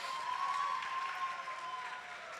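A crowd at a campus sports event applauds a cheerleading team, a faint, steady wash of distant clapping with a thin tone running through it.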